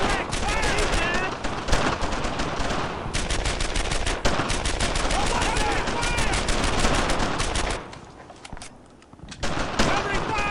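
Sustained gunfire from the WWII shooter Brothers in Arms: Earned in Blood, dense bursts of rifle and machine-gun shots in a nearly continuous barrage that dips briefly before resuming, with soldiers shouting orders over the shooting.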